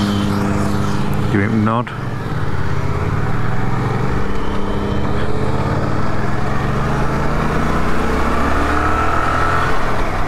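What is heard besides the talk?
motorcycles passing by on the road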